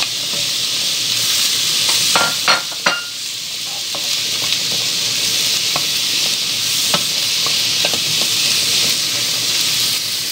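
Peeled shrimp cut into small pieces frying in a pan, a loud continuous close sizzle with a few clanks of stirring early on.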